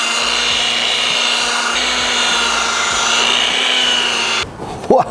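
Car polisher fitted with a foam pad, running POR-15 one-step compound and polish: a loud steady motor whine with a rhythmic low buzz, cutting off near the end into a few handling knocks.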